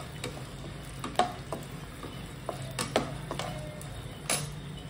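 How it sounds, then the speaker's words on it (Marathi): Peanuts roasting in a generous amount of oil for Solapuri peanut chutney, a soft low sizzle broken by scattered clicks and taps of a spatula against the pan, no voices. "शेंगदाणे छान याच्यामध्ये भाजून घ्यायचे आहेत तेलामध्ये"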